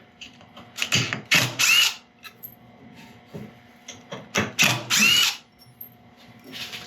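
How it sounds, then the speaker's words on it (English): A power drill with an 8mm bit whirs in several short bursts, revving up and stopping in an uneven rhythm, close by, with quiet gaps between the bursts. "I'm just going to go in with a 8mm drill bit."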